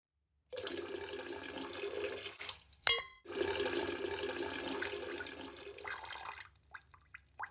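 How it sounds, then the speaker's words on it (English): Leftover water drains out of a cut plumbing pipe into a bucket during installation of a water-powered backup sump pump, a steady splashing trickle broken by a brief sharp clank, then tapering to drips. "That's the rest of the water draining out of the pipe into the bucket."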